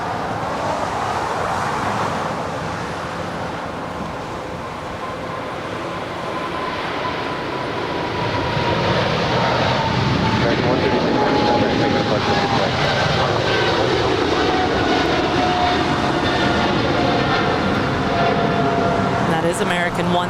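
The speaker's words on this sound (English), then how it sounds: "American 136 on her way to London Heathrow, 777-300ER." An American Airlines Boeing 777-300ER bound for London Heathrow rolls at LAX, a loud sustained jet roar that swells midway with a slowly falling whine, while a person talks over it.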